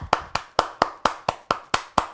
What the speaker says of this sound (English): clapping our hands, and you see everybody looked up and went, oh yeah, that's her clapping her hands again